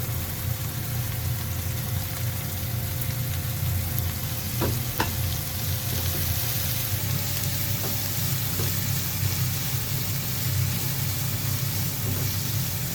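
Carrots and sausages fry in oil with a steady, close sizzle and crackle, joined by occasional light clicks of stirring.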